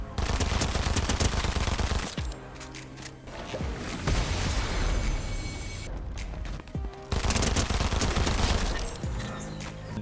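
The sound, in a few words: dual SMGs firing in a video game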